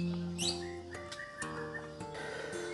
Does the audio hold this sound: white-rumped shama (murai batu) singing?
yes